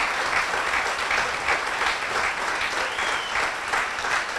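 Steady audience applause at a Daughters of the American Revolution Medal of Honor ceremony, even and continuous with a faint rhythmic pulse of clapping.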